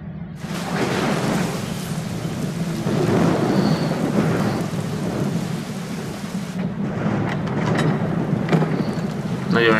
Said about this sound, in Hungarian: Nagyon esős itt az idő.